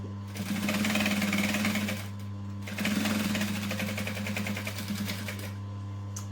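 A sewing machine runs close by, stitching down the sides of fabric for a clutch at a 2.5mm stitch length. It makes two steady bursts of rapid mechanical whirring separated by a brief pause, over a constant motor hum.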